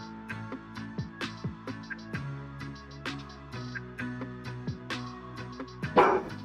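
A dog barking close by in short, repeated yips and bow-wows at a steady irregular rhythm, with a louder burst near the end.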